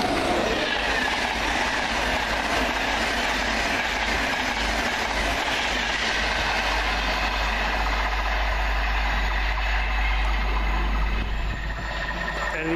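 A pair of Class 365 electric trains on the East Coast line at Alexandra Palace rumble past up close, with a continuous loud roar, a low drone and a rhythmic wheel clatter, fading slightly near the end.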